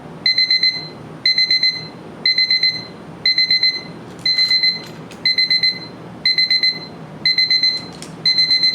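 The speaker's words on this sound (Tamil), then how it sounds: "ஆட்டோமேட்டிக்காக இதில் வந்து பார்த்தீங்கன்னா பீப் சவுண்ட் வந்து கேட்க ஆரம்பிச்சிடும்." A pill reminder alarm beeps high and electronic, repeating in regular quick bursts of several beeps, clear and steady against quiet background.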